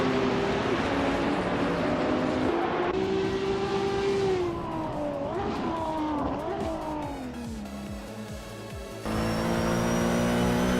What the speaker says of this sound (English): The track's tight corners seem to favor the older Porsche and Lola models, causing some unexpected position shifts and overtakes.